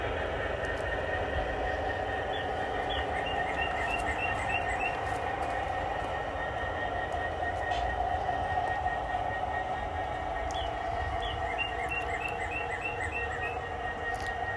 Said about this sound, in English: the engine seems awful loud when I play the video back